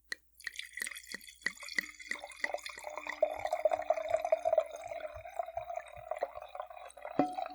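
Good Clean Cabernet wine pours steadily into a glass, a bright liquid gurgle building over several seconds with scattered drips at the start, close and fairly quiet with no talking.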